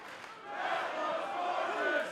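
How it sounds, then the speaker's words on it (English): Arena crowd at an NXT wrestling match in Columbus chanting in unison, a broad sustained roar of many voices that swells after the first half-second and holds steady. "You hear the crowd here in Columbus chanting along."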